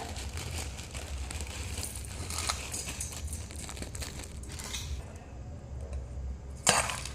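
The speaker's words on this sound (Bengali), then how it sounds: "এবার দেবো ঝুরি ভাজা" Crispy fried jhuri bhaja is tipped in and tossed through aloo kabli, giving a busy, close crunch and crinkle that thins out midway before one sharp louder rustle near the end.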